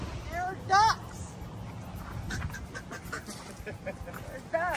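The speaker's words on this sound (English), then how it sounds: "There are ducks." Ducks on shallow open water give a short burst of loud quacks near the start and another brief call at the end, over a soft outdoor background.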